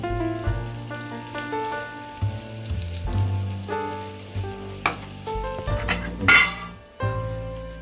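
Garlic fries in hot oil in a pan on a gas stove, giving a steady close sizzle with occasional scrapes and clinks of a utensil and a louder clatter near the end.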